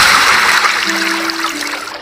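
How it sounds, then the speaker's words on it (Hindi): In a cartoon, a woodcutter's axe drops into a forest river, making a loud watery splash that turns into a rushing, gurgling stream with a faint steady tone, lasting about two seconds. "उस पेड़ को काटते काटते उसके हाथ से उसकी कुल्हाड़ी नदी में जाकर गिर गई"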